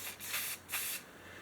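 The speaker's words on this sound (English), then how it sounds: "I'm going to go ahead, spray some right on my fingertips." Two short hissing bursts of white spray paint from an aerosol can aimed onto fingertips, close and quiet, each lasting about a third of a second.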